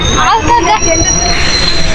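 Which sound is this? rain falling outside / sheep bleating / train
train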